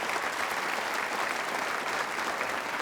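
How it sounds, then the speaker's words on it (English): Loud, dense audience applause at the BAFTA Games Awards ceremony, a full hall clapping steadily and continuously without pause, close and filling the whole stretch with no talk over it. "Let's give them a big round of applause, along with all the others mentioned."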